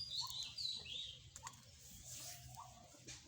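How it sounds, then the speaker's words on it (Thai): Faint, high bird calls chirp a few times in the distance over a quiet outdoor background. "มาอีกแล้วเสียงนกตัวหนึ่งครับ"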